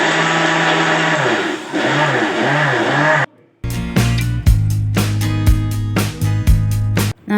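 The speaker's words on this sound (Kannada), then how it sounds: "ಮಿಕ್ಸಿಗೆ ಹಾಕ್ಕೊಂಡು ಪೌಡ್ರ್ ಮಾಡ್ಕೊಂಡಿನಿ" A mixer grinder whirs loudly while powdering dried sugar, running in a steady high-pitched drone, cutting out briefly, then restarting in a series of short pulsed bursts with brief pauses.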